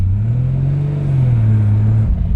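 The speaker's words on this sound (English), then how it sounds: "always keep on the throttle because once the clutch starts to drag a little, the RPMs will drop" Nissan R32 GT-R turbo engine held on throttle, a loud, close, steady low drone that rises slightly in pitch, then dips and surges briefly at the end.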